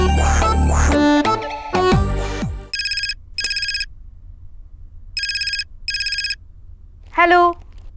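A telephone rings in two bursts of electronic trilling, each with a pair of pulses, clear and prominent, after loud dramatic music, with a voice briefly heard near the end.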